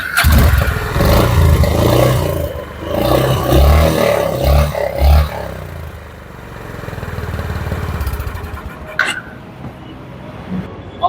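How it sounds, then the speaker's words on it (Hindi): A 2024 Honda CB350 motorcycle's exhaust idles and thumps nearby, with a few sharp throttle blips in the middle before easing off, loud and close with a brief voice near the end. "तो गैस चलिए बात कर लेते हैं हम इसके एग्जॉस्ट की, सुनते हैं कि क्या एग्जॉस्ट है इसका"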